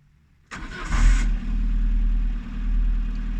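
A 1991 Citroën AX 14 Allure petrol engine cranks briefly then catches and settles into a steady, close idle, heard alone with a low rumbling hum.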